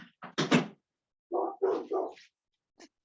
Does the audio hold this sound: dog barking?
yes